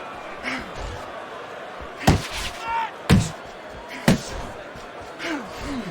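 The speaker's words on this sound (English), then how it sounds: "Very nice job landing that counter punch, getting away from one that was coming at him by Parker." Boxing punches land in a Fight Night Champion simulated heavyweight bout, three sharp thudding impacts spaced about a second apart, heard under a commentator's voice and a constant crowd murmur.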